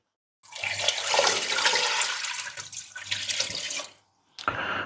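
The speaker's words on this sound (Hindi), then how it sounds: "इसको ढेर सारा पानी डाल के गलने के लिए रख दीजिए" Plenty of water pours from a tap into a pot of beef trotters set to simmer for stock, a steady close splashing rush that stops abruptly, then resumes briefly.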